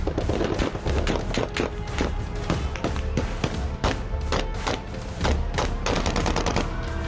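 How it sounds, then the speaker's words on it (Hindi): Sustained rattle of gunfire during a violent clash between villagers and an American army unit: dense, rapid crackling bursts of shots, loud and continuous throughout, with no voices. "अचानक फिजा गोलियों की तड़तड़ाहट से गूंज उठी।"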